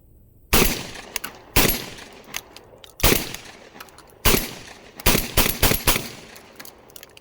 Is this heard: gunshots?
yes